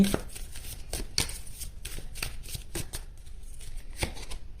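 Tarot cards being shuffled for an extra draw, a close, repeated riffling and slapping of the deck in quick bursts, with no talk.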